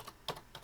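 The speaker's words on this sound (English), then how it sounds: "So I'm going to type in my hotspot" A hotspot password being typed on a computer keyboard: a few quick, close key clicks with one louder tap in the middle, no voices.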